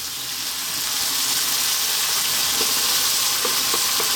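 Crab fried rice made with canned crab and soy sauce sizzles hard in a pan over high heat, a steady loud frying hiss with faint stirring knocks near the end.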